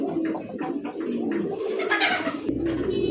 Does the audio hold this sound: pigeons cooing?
yes